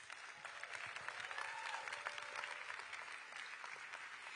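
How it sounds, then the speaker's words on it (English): A crowd at the Olympic and Paralympic flag installation ceremony at LA City Hall applauds the athletes, a steady, somewhat distant wash of clapping that holds evenly throughout. "Please, another round of applause for our Olympic and Paralympic athletes"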